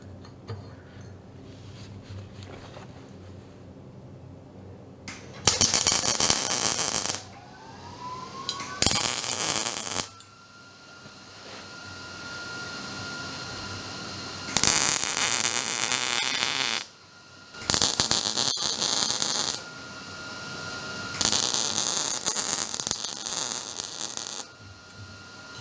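A wire welder joins 3/8 rod for a metal art ghost tree: four loud crackling, sizzling bursts of several seconds each, separated by quieter gaps with faint clicks and a low hum.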